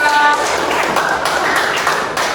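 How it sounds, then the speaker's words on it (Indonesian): Classroom students applaud a presenting group with a loud, dense spatter of many clapping hands that holds steady for the whole stretch. "beri tepuk tangan dulu untuk kelompok dua"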